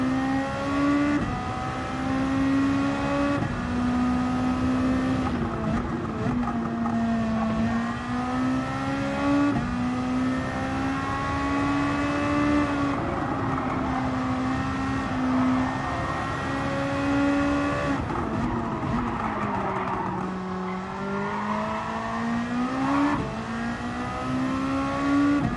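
Group 2 race car engine in Gran Turismo 7, a steady, loud, droning note that rises and falls with throttle and gear changes as the car laps a circuit, with no talk over it.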